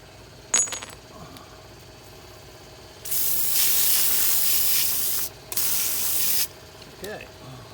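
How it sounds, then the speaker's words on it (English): A water hose sprays off parts used in a KZ400 vapor blast cabinet, hissing loudly for about two seconds, pausing briefly, then spraying again. A few metallic clinks come before it. "I gotta wait, spray these off"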